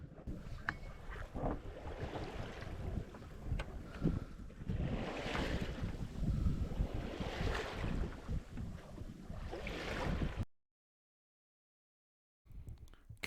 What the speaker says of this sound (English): Yeah, is this our wind coming in?